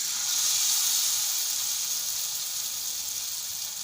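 Steady, bright sizzling of broccoli frying in a hot pan, a constant hiss with no talking.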